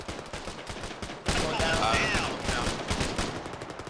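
Gunfire in the military video game Arma 3 erupts in a dense burst of rapid shots and a fusillade, loud and close, with agitated speech underneath.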